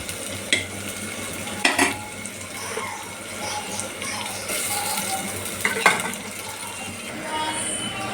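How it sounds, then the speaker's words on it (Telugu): Masala frying in oil in a pot for mutton curry, a soft continuous sizzle broken by a few sharp spoon scrapes and clinks against the pan, close and moderately quiet. "ఇప్పుడు ప్రస్తుతం అయితే ఇక్కడ మసాలా వేగుతుంది"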